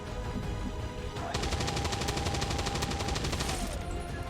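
Suppressive fire in XCOM 2 sounds as a sustained burst of rapid automatic shots, loud and evenly spaced for about two seconds after a quieter lead-in, with no talk.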